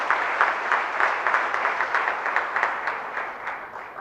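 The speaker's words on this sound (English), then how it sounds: "So please, a big round of applause for her for this." An audience at a book launch ceremony applauds a guest who has come from Pune, a dense, steady wash of many hands clapping close by that carries on for the full four seconds without talk.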